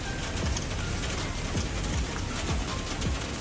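Steady rain falls on a surface as a dense, continuous patter with scattered louder drops, close and even, with no talk.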